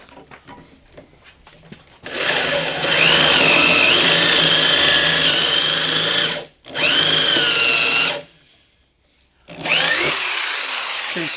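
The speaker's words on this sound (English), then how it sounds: "Okay, so now the first hole is drilled." A drill bores a hole into wood for a mortise joint, using budget woodworking tools: a steady, loud whirring grind for about four seconds, a brief break, a shorter burst, a pause, then another start-up at the end.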